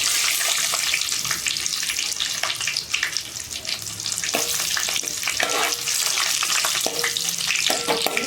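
Urad dal, mustard seeds, cumin and dry red chilies crackle and sizzle loudly in hot oil, a dense, continuous close frying hiss with scattered pops and spoon stirring throughout.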